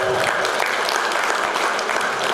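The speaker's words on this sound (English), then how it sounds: "can we give us a round of applause, please?" An audience at a university education graduation celebration gives a round of applause, a dense, even burst of clapping heard close and loud throughout.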